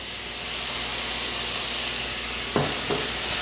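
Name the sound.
stirring chopped tomato with sautéed onion and carrot in a pan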